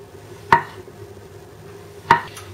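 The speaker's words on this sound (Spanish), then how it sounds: "Las aceitunas las vamos a cortar también en rodajas" A knife slices olives into rounds on a cutting board for Mediterranean puff pastries: two crisp, separate chops land about a second and a half apart against a quiet background.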